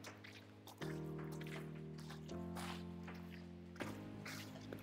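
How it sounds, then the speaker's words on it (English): Water trickles and drips steadily in an abandoned Pennsylvania Turnpike tunnel, resonant and enclosed, with a low droning hum underneath and occasional splashy bursts. "you'll hear water running. And there's always water running"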